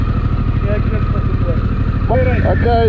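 Harley Davidson Pan America motorcycle with an aftermarket exhaust idles with a steady low rumble close by, while someone talks over it.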